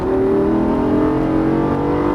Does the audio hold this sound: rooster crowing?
no